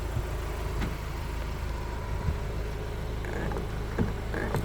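A car engine left idling with the engine not switched off, a steady low rumble running close and continuous with a few faint knocks and clicks on top.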